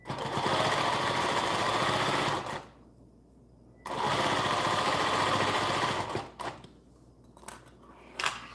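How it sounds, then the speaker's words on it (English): Industrial serger sewing machine running in fast, loud bursts, stopping briefly between runs, with light clicks and handling noise in the pauses. "It's loud, but I love it too, having the industrial serger."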